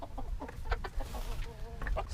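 A farm hen clucking while laying an egg, repeated soft clucks at a moderate distance with faint other fowl sounds and light background noise.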